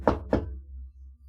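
Two sharp knocks on a door, one after the other, are followed by faint low room hum.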